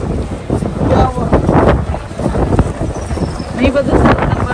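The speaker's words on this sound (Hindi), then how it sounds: "हवा भी इतनी तेज़ चल रही है कि सब सामान उड़ा है, बहुत तेज़ हवा चल रही है।" Strong wind buffets the microphone in gusts around the crowded Masjid al-Haram in Makkah, a loud rough roar with murmuring voices mixed in.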